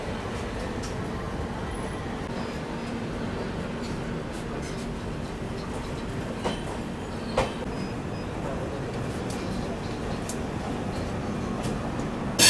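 The Pataliputra LTT Superfast Express runs through a station in a steady, continuous rumble of wheels and carriages, with a few faint clicks and knocks over the drone.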